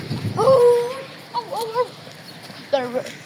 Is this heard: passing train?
no